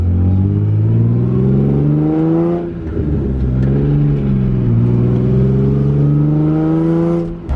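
A manual-transmission car engine revs up steadily, loud and close, its pitch climbing and dipping through several smooth surges with no talk over it.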